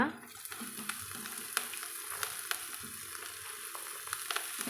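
Chopped arai keerai greens sautéing in a pan give a soft, low sizzle, broken by light, irregular spatula taps and scrapes.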